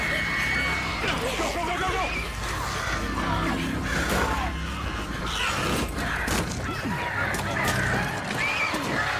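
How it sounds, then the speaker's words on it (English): Harsh bird calls from crows in the video game Days Gone, repeating and overlapping across a busy, steady game soundscape with no clear pauses. "Didn't take long for the crows to get up in this base."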